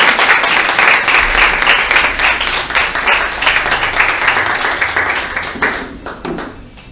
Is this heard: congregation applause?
yes